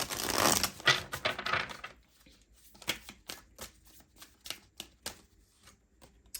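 Tarot cards from a deck being picked up and shuffled close by, a quiet burst of riffling for about two seconds, then a run of soft, separate card slaps and taps at uneven intervals.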